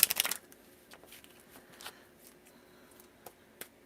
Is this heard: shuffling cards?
yes